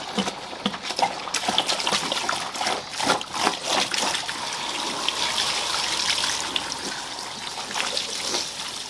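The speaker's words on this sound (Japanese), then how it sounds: "これを再使用で洗っていきます" Used parts from a Mazda RX-7 FD3S rotary engine are washed in water for reuse, with close trickling, dribbling and sloshing water and intermittent clatter and handling sounds, without talk.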